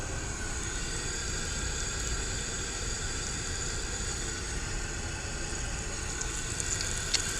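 Cornmeal-coated food frying in butter, a steady close sizzle with crackling pops over a constant hiss, and no talking.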